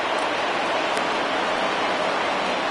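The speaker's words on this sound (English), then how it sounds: "You just sensed it was coming with the heaviness of the rain" Heavy rain pours steadily over a baseball game between the Sudbury Sluggers and Alma Kwiks, a dense, even hiss of downpour with no talk.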